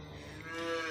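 A cow, heavily pregnant, moos once on a cattle farm, a single close, loud, drawn-out low call that swells toward the end.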